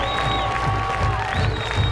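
Sellout crowd at Johnny Hill Stadium cheering and applauding as the Milan Bulldogs, in all-purple uniforms, rush onto the football field on a hot evening, a continuous distant roar with a whistle-like tone threading through it.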